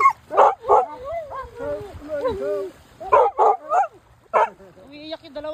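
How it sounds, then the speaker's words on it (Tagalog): Two dogs whining and crying up close, high wavering whimpers mixed with short yips and barks in bursts, voices of people talking alongside. "Umiiyak yung dalawang aso."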